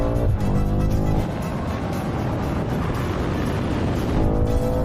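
Quarter-mile drag race launch between a 1600 HP GT-R, an 800 HP BMW M5 and a Ducati V4R: loud engine roar with rising, shifting pitch as the vehicles accelerate hard, staying close and intense throughout.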